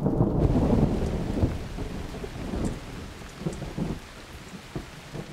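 A cartoon thunderstorm in Berenstain Bears opens with a loud thunderclap that rolls away into steady rain pattering on surfaces, with fainter rumbles fading over a few seconds.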